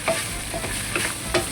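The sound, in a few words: stir frying celtuce with egg and black fungus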